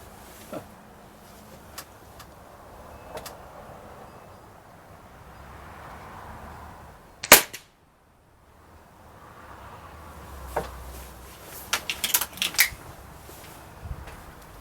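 A Gamo Swarm .22 air rifle with a new piston seal fires a single sharp, loud crack partway through, set against quiet outdoor background with a few faint clicks before and after.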